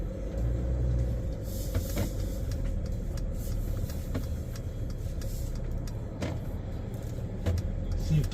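Cars rolling past on a park road in Saguaro National Park, Arizona, a steady close tire-and-engine rumble heard from inside a vehicle, with a few brief louder swells as traffic goes by.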